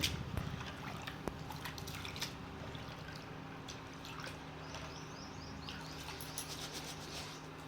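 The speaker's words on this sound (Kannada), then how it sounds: "ಈ ರೀತಿ ಮೂರು ನಾಲ್ಕು ಸಲ ನೀರು ಚೇಂಜ್ ಮಾಡಿಬಿಟ್ಟು ಅಕ್ಕಿನ ತೊಳಿಬೇಕು" Rice being washed by hand in water, with soft sloshing, drips and small splashes throughout, close and moderately quiet, with no speech.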